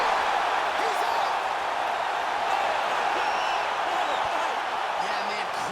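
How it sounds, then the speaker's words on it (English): UFC arena crowd roaring and cheering after a knockout, a dense, steady wash of distant voices and whoops sustained throughout without a break. "crowd loving it"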